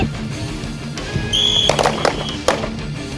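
A shrill whistle blast is followed by several sharp gunshot cracks in quick succession at a shooting range during a concealed-carry class, with faint background activity around them.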